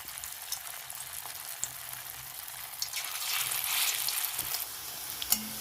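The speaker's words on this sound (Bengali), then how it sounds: "তেলটা গরম হয়ে গেছে, এর মধ্যে আমি এবার পকোড়াগুলো দিয়ে দেবো।" Moong dal pakoras hiss and crackle in hot white oil in a kadai, a loud continuous sizzle that grows denser toward the end, with a few small clicks and no speech.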